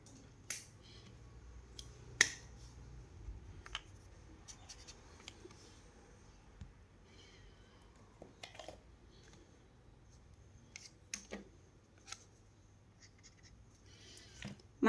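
A pen or marker colouring in on paper, faint scratchy strokes and occasional sharp taps scattered over a quiet background.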